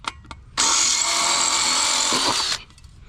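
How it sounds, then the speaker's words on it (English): A power drill whines loudly and up close for about two seconds while cutting out rusted rivets, then cuts off, with a couple of faint clicks before it starts. "twist your driver or your drill so it'll cut these rivets out a little easier"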